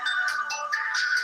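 A phone ringtone sounds for an incoming spam call, a bright repeating electronic melody playing steadily and fairly loud on its own, with no voices over it.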